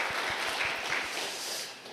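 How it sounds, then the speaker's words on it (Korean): A church congregation at a Korean Sunday service claps in thanks for the choir, a brief, dense burst of applause with a few low thumps underneath. "다시 한번 이 감사와 사랑의 박수로 같이 한번 우리 박수하겠습니다"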